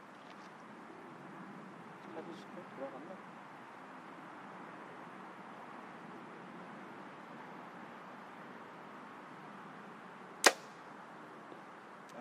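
An arrow is shot from a Bowtech RPM360 compound bow at 80 metres. A single sharp, loud crack stands out against a long stretch of quiet outdoor ambience.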